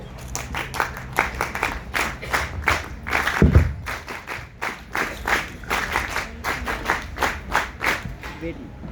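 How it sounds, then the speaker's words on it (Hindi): An audience at an event claps steadily and evenly throughout, close and moderately loud, with one dull thump partway through. "जोरदार तालियां हमारी मुख्य वक्ता और कैंप डायरेक्टर मैम के लिए।"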